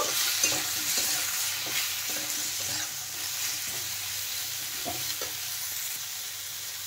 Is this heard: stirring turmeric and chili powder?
yes